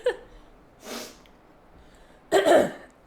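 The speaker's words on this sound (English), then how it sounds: "I have to clear my throat." A man clears his throat in a few short, rough bursts with quiet pauses between them, close and fairly loud in a quiet room.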